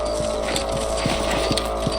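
Horse hooves clip-clop at a steady walking rhythm in the Red Dead Redemption video game, fairly close, over a constant low ambient hum with no talk.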